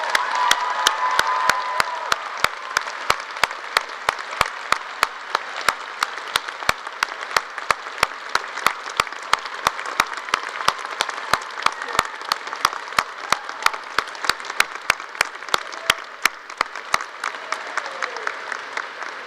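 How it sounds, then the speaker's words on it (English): A big round of applause fills a university commencement ceremony at WSU Vancouver in 2019, with a sustained crowd clapping and scattered cheers, carrying on steadily before tapering off at the end. "get everyone to give her a big round of applause"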